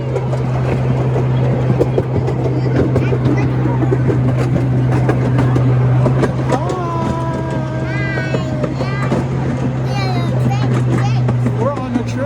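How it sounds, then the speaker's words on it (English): Inside a moving train carriage, a constant low rumble and hum of the ride carries throughout, loud and close, while an adult and someone talk and chatter over it. "We're on a train."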